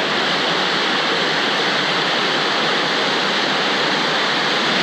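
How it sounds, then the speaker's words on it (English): Waterfall near the Mendenhall Glacier in Juneau, Alaska, a loud, close, continuous roar of falling water with no other sounds. "The waterfall behind me"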